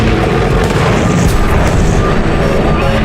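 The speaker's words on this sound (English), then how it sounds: "The breakage causes an explosion in the engine," An aircraft engine explodes after one of three propeller blades on the left wing snaps off during takeoff acceleration, giving a loud, dense, continuous roaring blast with no pauses.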